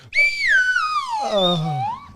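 A single long whistle with rich harmonics, sliding down slowly in pitch, steady and fairly loud, with no talking.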